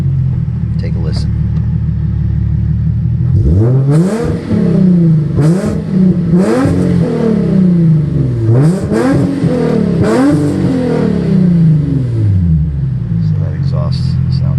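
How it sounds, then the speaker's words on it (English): A 2008 Nissan 350Z exhaust sits at idle, then is blipped through a series of sharp revs, each rising and falling quickly in a rhythmic run of about six bursts, before settling back to a low burble; loud and close. "So that exhaust sounds really, really cool. Not too obnoxious."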